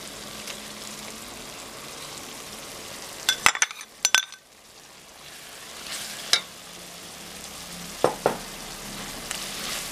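Ginger garlic paste frying with softened tomatoes in oil for a South Indian mutton curry, with a steady low sizzle broken by a few clanks of a metal spoon against the pan and stirring scrapes.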